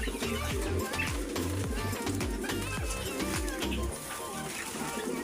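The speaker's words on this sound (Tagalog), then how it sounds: "Kakaibang kalapati. Ibang ibon." Low, soft pigeon coos repeat in a steady rhythm under a busy background of chatter and other bird chirps at a pet market in Kuwait.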